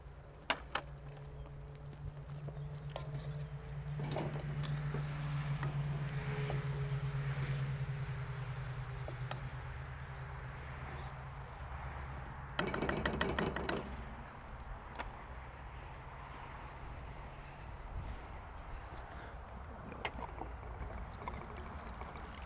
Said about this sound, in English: I'm going to pour that in now.